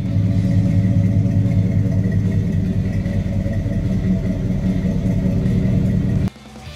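Steady low engine drone and road rumble from a 1976 Chevrolet C10 pickup truck while driving, a loud, even hum that holds without change and then abruptly drops away near the end.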